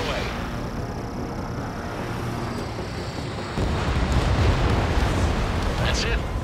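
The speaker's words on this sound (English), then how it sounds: "Missile away." Video game missile launch and explosion in Ace Combat 7: a steady roaring rush that steps up at mid-clip into a louder, broader blast-like roar, with no one talking in the clip.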